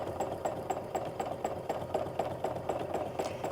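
A sewing machine stitches a loopy meander fill on a quilt block during free-motion quilting, a fast, steady mechanical rattle with even rhythmic pulses, close and alone without speech.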